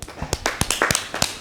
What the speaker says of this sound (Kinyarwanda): Tumuha amashyi menshi cyane